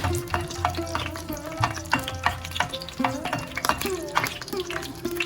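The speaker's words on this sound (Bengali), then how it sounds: "আমি এখন শুকনো মরিচটা দিয়ে দিলাম, একটু ভেজে নিব" Dried red chilies frying in hot oil for a lentil dal tempering, a soft crackling sizzle under repeated clinks of a spoon stirring against the pan, with a faint background hum.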